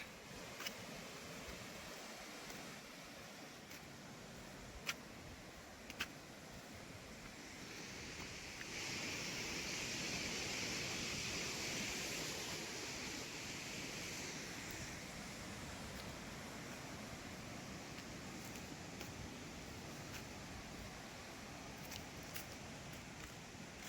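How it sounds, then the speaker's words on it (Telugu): Waterfall near Vizag, at Devarapalli, Vallabhu or Bahubali falls, heard as a steady, faint rushing wash of falling water with some wind buffeting and a few soft knocks. "ఇదిగోండి ఇది ఇంకో వాటర్ ఫాల్స్"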